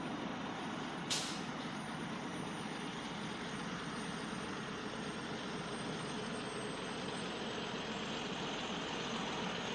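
A dump truck in traffic on Main Street in Loganville, a faint, steady broadband road rumble with one sharp hiss near the start.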